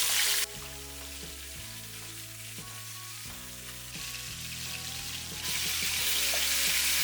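Pork spare ribs searing in a pan: a bright, steady sizzle that swells louder toward the end, with low tonal hum and music-like notes underneath and no talking.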